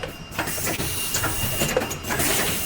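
An automatic screen printing machine applying UV ink color by color, giving a faint mechanical hiss with rapid irregular clicks and clatter, plus a thin steady whine running throughout.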